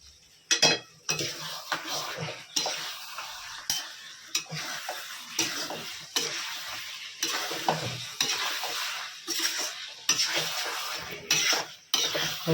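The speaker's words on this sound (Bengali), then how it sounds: "আলুটাকে দিয়ে হালকা কষাবো" Potatoes sautéed in a pot for Bengali mutton kosha: a rhythmic series of loud spatula scrapes and metallic clanks against the pot recurs every second or so over a continuous sizzle.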